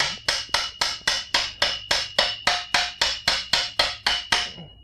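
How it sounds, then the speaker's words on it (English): About fourteen sharp metallic hammer taps strike a BMX bike part into place at a steady, even rhythm, close and loud, each ringing briefly before the next. "now you can take a hammer if you like, and just kind of hammer it through just a little bit"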